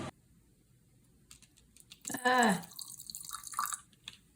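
Water pours into a container for about a second, rising in pitch as it fills, followed by scattered soft clinks and handling noises.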